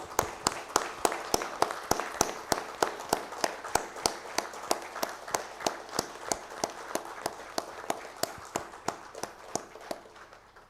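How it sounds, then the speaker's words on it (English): An audience at a Silver Jubilee celebration at NCPOR gives a standing ovation, clapping together in a steady, even rhythm of about three sharp claps per second that continues strongly and slowly softens over ten seconds. "applaud him as a standing ovation to Doctor."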